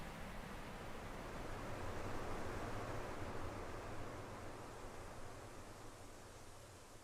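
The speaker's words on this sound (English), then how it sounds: "I got some white noise for you." Steady, loud broadband hiss of white noise plays on a stream, unbroken and uniform for the whole stretch, like rushing surf without waves.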